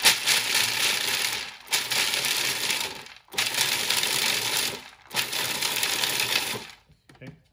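A food processor pulses pistachios and garlic for kale pesto in four loud, harsh bursts of whirring and rattling, separated by brief pauses, then falls quiet.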